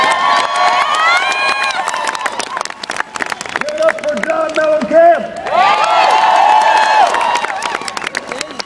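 A big rally crowd cheers and claps in a loud, sustained roar, with whoops and shouted voices that dip briefly midway before surging back up even louder.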